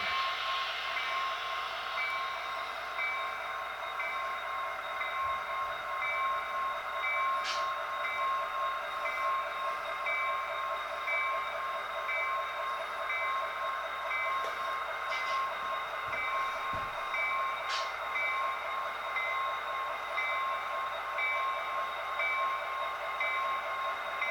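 A model container train rolls steadily past on a model railroad with a continuous heavy rumble and metallic wheel squeal, punctuated by a couple of faint sharp clanks; no voices.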